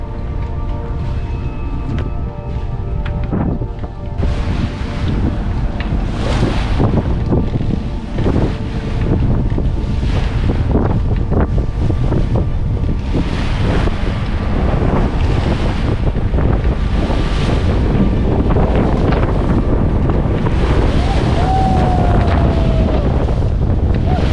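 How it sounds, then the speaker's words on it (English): Steady wind and breaking waves roar around a sailboat making its way out of a tiny harbor entrance on Denmark's Limfjord, loud and continuous with gusty wind buffeting the microphone throughout. "I had to plan my escape from that tiny harbor with some waves and the wind still crossing the harbor's entrance."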